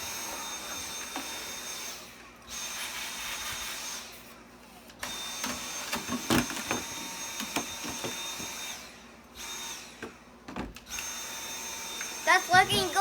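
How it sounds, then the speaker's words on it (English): A Dyson V7 cordless vacuum cleaner with its crevice tool attached whirs in bursts, switching on and off, with knocks and scraping as it works into tight spots; a person speaks between runs. "Put the crevice tool on and I'll get where I haven't vacuumed in a long time."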